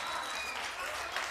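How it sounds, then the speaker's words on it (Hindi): An audience at a Varun Anand poetry recital in Jaipur bursts into dense, sustained clapping, loud and close throughout, with faint cheers mixed in. "जयपुर जोरदार तालियां भाई"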